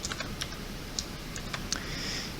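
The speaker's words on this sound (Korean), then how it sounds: "그 다음 ESC 버튼 누르고 그리고 나서 다음 페이지로 넘어가기 위해서 페이지 다운 버튼 누르겠습니다" A few separate key presses on a computer keyboard, including Escape and Page Down, sound as faint, sharp clicks spaced irregularly over a low background hiss, with no voices.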